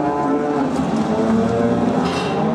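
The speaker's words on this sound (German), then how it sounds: "Auch die Kühe begrüßen das Frühjahr und hoffen natürlich ganz schnell nach draußen zu kommen." Cows in a barn in spring low and moo loudly and continuously, several overlapping calls forming a dense, droning chorus with no voices.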